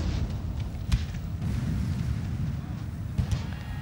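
Artillery fire in a Napoleonic battle game between French and Mamluk forces, a few distant booms over a constant low rumble of battle noise.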